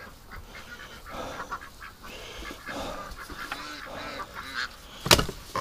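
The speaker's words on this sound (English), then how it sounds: "Oh, look at the little duck." Ducks call in a large flock of over a thousand birds, a continuous murmur of quacks and honks with one sharp, loud burst near the end.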